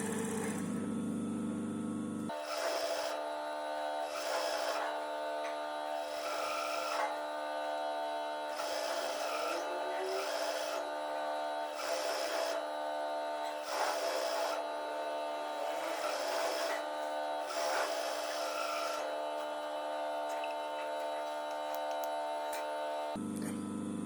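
An industrial sewing machine stitches the hem of a t-shirt with a continuous close mechanical hum and rapid ticking, and its pitch and loudness stay steady throughout with no voices.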